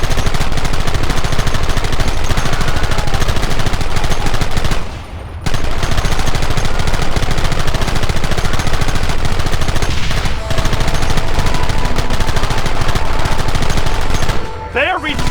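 Sustained heavy gunfire in a Red Dead Redemption battle, loud and continuous rattling volleys of rifles and revolvers at close range, dropping out briefly twice before resuming.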